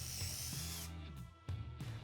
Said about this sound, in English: Then I can just put it on the center line of the drawer, drill my holes